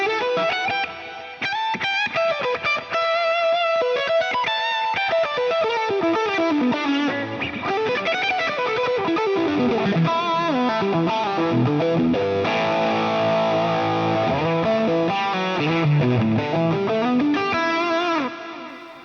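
An electric guitar plays a continuous lead line through an Axe-Fx with overdrive, delay and reverb, loud and sustained, with smeared echoing notes and distorted harmonics throughout, no talking.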